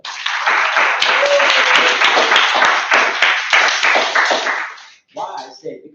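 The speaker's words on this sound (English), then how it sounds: "Can I have a applause for her?" Audience applause at a Toastmasters club meeting, a loud sustained burst of clapping from a room of people that fades out near the end, followed by a brief moment of talking.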